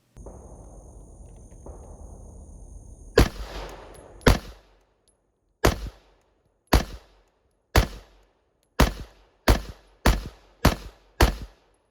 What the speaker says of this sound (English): let's go back to the range for our first shooting drill, the 10-shot warm-up with each gun